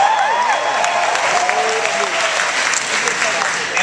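Theater audience at the Castro Theater applauding, a dense steady wash of many hands clapping that fills the room throughout, with whoops and voices from the crowd mixed in.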